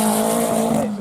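A drift car slides on the Driftland track in the British Drift Championship, its tyres squealing in a loud sustained screech over a high-revving engine, cutting off abruptly after about a second.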